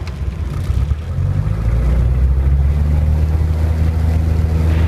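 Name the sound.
Robin DR400 160 hp aircraft engine at takeoff power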